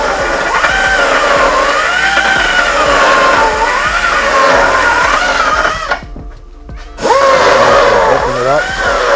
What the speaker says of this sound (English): We got a fluted cutter on there, so that's what he's working with.